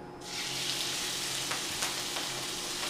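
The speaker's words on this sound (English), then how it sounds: "we're going to put our shrimp in" Peeled, deveined shrimp hitting a hot pan and frying, a steady broadband sizzle that swells in after a brief quieter start and continues with a few faint clicks, no talking.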